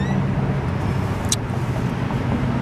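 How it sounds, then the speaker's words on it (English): Cars passing by on a major street, a close, loud, continuous roadway roar with one brief sharp hiss midway. "I'm like right here in front of cars passing by on a major street"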